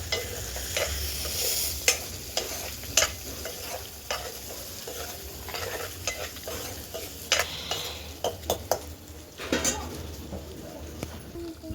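Turmeric and salt being stirred in a frying pan while preparing goat head curry, with a steady low sizzle and repeated scraping, clinking strokes of a spoon against the pan, fairly close.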